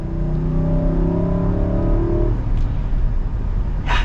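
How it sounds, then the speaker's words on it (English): 2021 Infiniti QX80 with its 5.6-liter V8 accelerating hard, heard from inside as a loud, rising engine drone that climbs for about two seconds, then drops into a steady cruising rumble. "We're going to be getting an acceleration here with the QX80."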